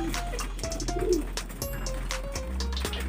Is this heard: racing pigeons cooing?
yes